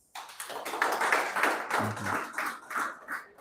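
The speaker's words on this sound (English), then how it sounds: "just another round of applause." Applause for a presenter at a team-building and motivation talk, a steady burst of many hands clapping together that swells and carries on for a few seconds, with a brief murmur of voices near the middle.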